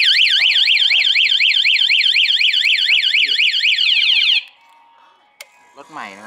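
A car alarm system, CPR 300 model, wails loudly and close with a rapidly warbling electronic siren tone for about four seconds, then cuts off, leaving faint background noise and a few soft clicks.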